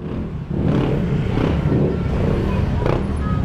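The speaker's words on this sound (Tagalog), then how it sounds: "Pwede pa lang ipasok yung motor dito?" A motorcycle is ridden in close by at Sitio Baag in Tarlac, its engine droning and revving at moderate volume while people talk nearby.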